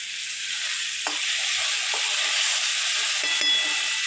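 Egg curry masala gravy frying in oil in a pan, a continuous close sizzle with a few soft scraping stirs of a spoon.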